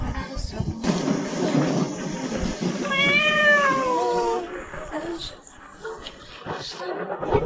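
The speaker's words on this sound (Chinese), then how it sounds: "带着一只快病死的小猫" A small, sickly cat gives one drawn-out, wavering meow midway through a tense dramatic scene, with people talking loudly before and around it.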